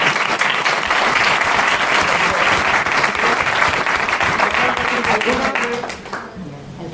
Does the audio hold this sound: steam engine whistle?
no